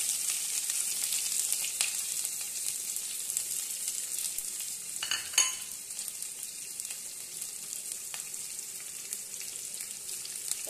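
Ginger fries with spices in hot oil for black dal, giving a steady, close hiss and crackle with a few sharper spatters and a brief stirring clatter midway.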